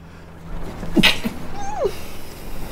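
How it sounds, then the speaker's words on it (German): A single sharp sneeze bursts out close to the mic during a German let's play of Ghost Recon Wildlands, with faint game sounds before and after. "Ich muss niesen."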